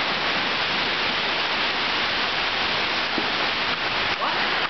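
Heavy tropical rain in Singapore pours down in a steady, dense broadband hiss that stays loud and unbroken throughout, with no voices rising above the downpour.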